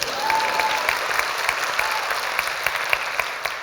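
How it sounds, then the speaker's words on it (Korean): An audience at a Korean lecture event breaks into warm applause, a dense patter of many hands clapping steadily for a few seconds. "박수."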